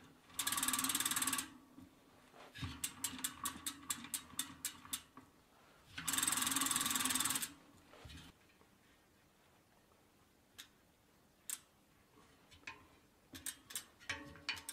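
A bicycle drum brake on a wheel is tested with two bursts of loud whirring spin. Between and after them come runs of rapid ratcheting freewheel clicks and scattered mechanical ticks, close up in a quiet room.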